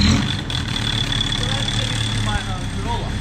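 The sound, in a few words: engine idling while throttle is held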